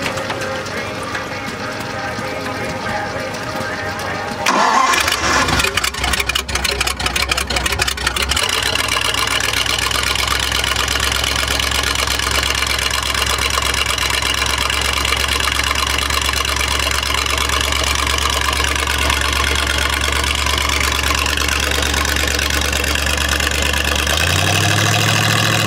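A 1952 Ford tractor with a V8 engine cranks with a rapid rattling turnover, catches, and settles into a loud, steady, throbbing idle close by that runs for many seconds.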